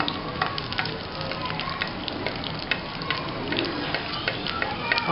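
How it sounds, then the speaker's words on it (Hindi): Onion drops into hot oil and fries with a bright, crackling sizzle that holds steady at close range, dotted with small pops and a few stirring sounds. "Oil हमारा गर्म हो चुका है। इसमें हमने ये प्याज डाल दी।"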